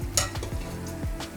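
Battered jumbo shrimp frying in hot oil over medium heat, a steady close sizzle with a few sharp crackling pops, no talk.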